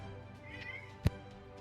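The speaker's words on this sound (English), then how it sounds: "that is my cat" A pet cat gives a single short meow partway through, faint and somewhat distant over a low background hum.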